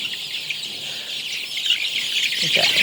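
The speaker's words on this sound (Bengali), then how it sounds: "এগুলো পাখির মতো ডাকে মুরগিগুলা" A flock of 19-day-old Sonali chickens chirps in high, bird-like calls, a dense steady chatter close by with a lower cluck near the end.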